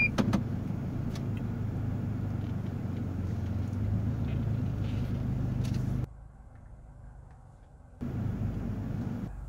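An automatic fuel-injected car runs close by with a steady low engine drone and some mechanical whirring, then drops to a quieter idle for a couple of seconds before the engine sound picks up again.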